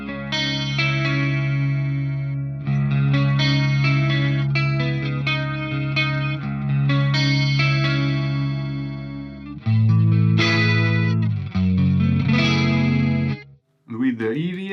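Electric guitar on a Rectifier amp's clean channel with a Boss CE5 chorus in front, neck pickup, Greenback speaker: shimmering chorused chords and arpeggios ring out loud and sustained, with a short break near the end.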